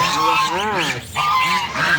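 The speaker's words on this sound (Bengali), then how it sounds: "কত সুন্দর কিউট হাঁস দেখুন" Loud, nasal quacking calls repeat close by, one after another with barely a pause, harsh and honking in tone.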